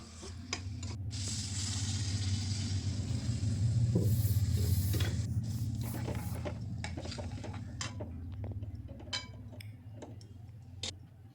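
Water hitting chicken that is frying in spices in a pan gives a loud, sustained sizzling hiss that swells and then settles, with occasional clinks of a utensil against the pan.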